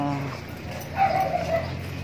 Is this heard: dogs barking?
yes